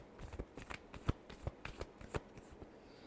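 Tarot cards being shuffled, soft riffling and tapping with a few sharper slaps, close and quiet, with no talking.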